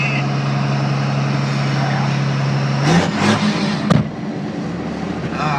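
A 2002 Dodge Cummins diesel truck with a six-speed runs steadily at a low idle drone, then revs hard around midway with a sharp turbo whoosh and a brief spike before settling back, voices talking faintly beneath.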